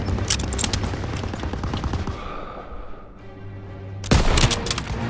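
Machine gun turret fire in Call of Duty: WWII, sustained rapid bursts up close that fade to a lull, then a loud renewed volley with explosions near the end.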